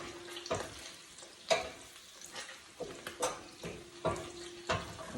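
Onions and sweet peppers caramelize in a pan with a soft frying sizzle, and a utensil stirs them in a string of scraping strokes roughly every half second to second, close by, with no speech.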